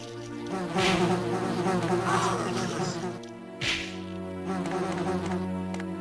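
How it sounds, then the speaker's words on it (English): Wasps buzzing in the video game Resident Evil Deadly Silence, a dense droning insect buzz in two swelling bursts over steady game tones, with a short spoken remark. "I'm not dealing with these wasps, pain in the ass or bees or whatever they are"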